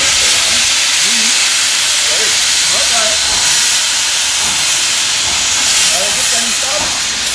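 A restored steam locomotive at the former Nossen locomotive depot gives off a steady, loud broadband hiss of escaping steam throughout, close by, with faint background voices.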